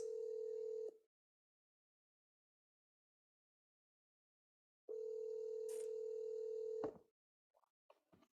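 A telephone line during cold calls plays two steady ringback tones, the second interrupted by a short dialing blip, with silence between and small clicks afterward.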